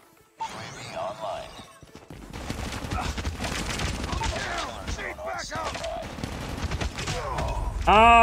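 Rapid, dense gunfire from a submachine gun rattles almost continuously in a ranked Call of Duty Mobile match, loud and close, with game effects and a faint voice mixed underneath.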